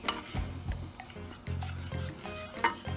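A spoon stirring a morel mushroom cream sauce in a pan, soft repeated scraping and swishing strokes with faint sizzling beneath, close and moderately quiet, no talking.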